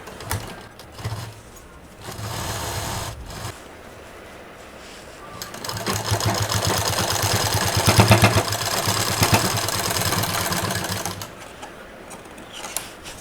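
A sewing machine runs in bursts of rapid mechanical stitching, then in a longer sustained run with a rattling motor hum, while piping is sewn onto a fabric hanger. Short pauses fall between the runs.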